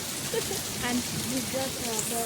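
The first rain of the year falling in a village, a steady hiss of rainfall on surfaces with scattered drops, and faint voices in the background.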